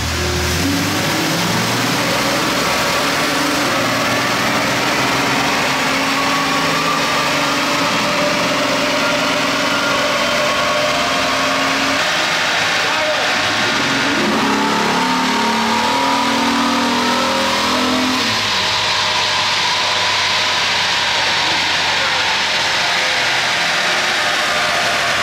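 A car makes a test pull at about 60 mph during a fuel pump volume check, the engine loud and close as it revs and accelerates, dips midway, then climbs again with steady drivetrain drone.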